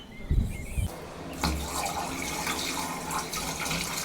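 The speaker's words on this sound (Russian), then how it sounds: "Рома, вода уходит, она не стоит." Water rushes and gurgles steadily after a couple of soft thumps, a continuous broadband flow draining away through a hose outdoors at an old village house, at moderate, close range.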